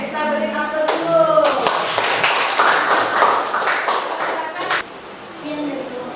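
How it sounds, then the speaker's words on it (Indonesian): Classroom students break into applause, a dense burst of clapping that runs for several seconds with voices mixed in before fading. "kita beri aplaus dulu"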